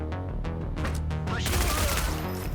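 Loud, dense video-game gunfire in GTA, rapid shots rattling over a continuous background of in-game music and noise, building into a heavier burst of firing toward the end.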